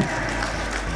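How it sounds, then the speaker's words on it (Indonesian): Audience at a school reunion event clapping, a dense, even wash of applause at close range for about a second. "kasih tepuk tangan yang paling meriah ya"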